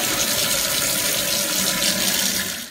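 Kitchen tap water runs hard into a sink to wet a paintbrush, a loud, steady rushing gush heard up close and alone, fading slightly at the end.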